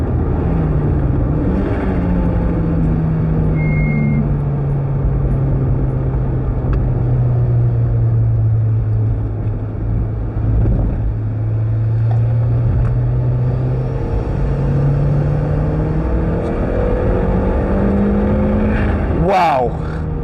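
Turbocharged Mazda MX-5 on high boost around a wet race circuit, a loud continuous engine drone from inside the car that rises and falls in pitch through gear changes, with a voice speaking over it.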